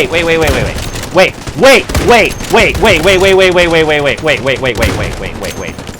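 Gunfire in the video game Delta Force: sharp shots and bursts at irregular intervals, close and loud, partly under a person talking loudly over them.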